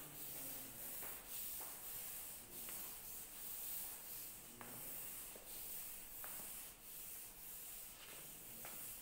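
Writing is rubbed off a classroom board, a faint rhythmic scraping swish repeated in short strokes with no talk over it.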